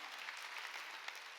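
Church congregation at a Sunday worship service applauding together, a steady, dense wash of many hands clapping at moderate loudness with no talking.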